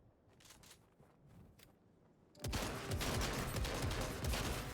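Shotgun fire in the Fortnite video game: faint scattered pops at first, then a sudden loud, dense barrage of blasts that continues steadily to the end.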